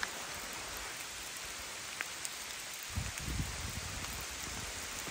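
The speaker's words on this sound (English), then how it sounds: "This rain actually feels really refreshing" Steady rain falls on a campsite along the Appalachian Trail, a dense, even hiss of drops on leaves and ground with a few faint nearby rustles.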